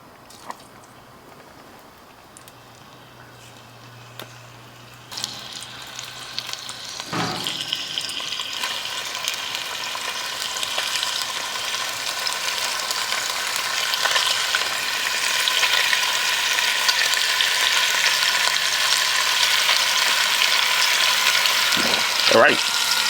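Bacon dropped into hot oil and grease in a pot, starting quiet and then breaking into a loud, continuous sizzle and crackle that builds and stays steady, with a few clinks from the pan.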